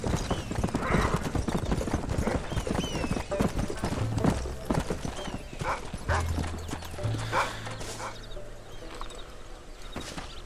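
Horse galloping in the video game Red Dead Redemption: rapid, steady clip-clop hoofbeats up close with occasional neighs and snorts, under background game sounds and some voices talking.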